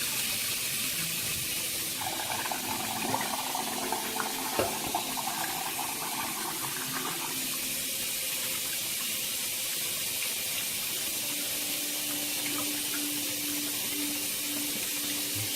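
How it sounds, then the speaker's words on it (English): A kitchen tap runs steadily into a bowl or sink while rice is rinsed, a continuous, fairly loud hiss of water with small splashes and sloshes throughout, and no talk. "rinse your rice off a few times and pour it off"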